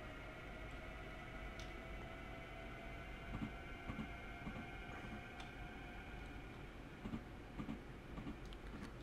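A DB BR 1442 electric multiple unit cruises along in Train Sim World, with a steady low rumble and soft rhythmic track clicks recurring at a moderate level throughout.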